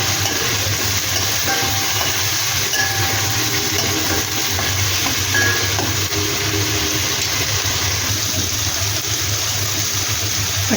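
Chicken frying in a pan with a spoonful of ginger garlic paste gives a steady, dense sizzle that runs unbroken at close range, with no voices over it.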